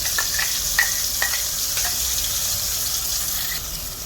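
A ground paste of chili, turmeric and tamarind fries with garlic in a pan, sizzling steadily and loudly, with light scraping clicks from stirring scattered throughout.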